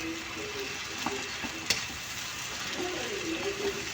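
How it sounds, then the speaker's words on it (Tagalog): Pancit canton noodles stirred and tossed in a hot pan, a steady soft sizzle with scraping clicks of the utensil against the pan, no talking. "Ihalo-haloin lang natin para maluto yung canton."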